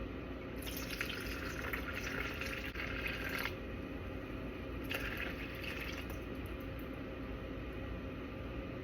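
Water poured from a jar into a mixing bowl while mixing sourdough dough with fed starter, a steady close liquid trickle and splash with brief stronger bursts, no talking.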